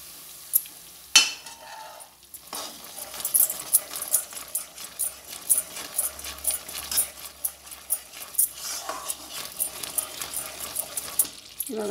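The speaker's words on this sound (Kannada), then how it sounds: "ಆ ಕಾದಿರೋ ತುಪ್ಪನ ನಾವು ಸ್ವಲ್ಪ ಸ್ವಲ್ಪ ಇದ್ರ ಮೇಲೆ ಹಾಕೋತಾ ಇರಬೇಕು" Hot ghee poured bit by bit into a sizzling Mysore pak mixture of gram flour and sugar, giving a soft, steady crackle punctuated by scraping and stirring clicks of a spoon against the pan.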